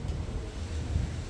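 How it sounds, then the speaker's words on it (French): Gusts of wind buffeting outdoors, a loud low rumbling roar that blusters steadily throughout, close to the microphone. "pendant qu'il y a ces rafales de vent"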